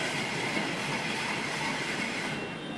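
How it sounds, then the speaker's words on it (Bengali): A passenger train passes through Kamalapur railway station in Bangladesh, giving a continuous, loud rumble and rolling roar of wheels on track that holds steady throughout. "আর এটা হচ্ছে যাত্রীবাহী ট্রেন"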